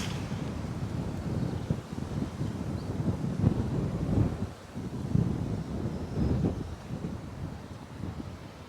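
Strong wind gusts rush across a golf course in a golf video game, a steady low roar with rising and falling surges and no voices.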